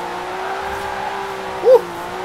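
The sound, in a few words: turbocharged sports car engine, video game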